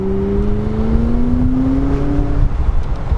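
A McLaren sports car with the top down accelerates hard on a gravelly road, its engine note climbing steadily in a loud, close whine over wind and road rumble before easing off near the end.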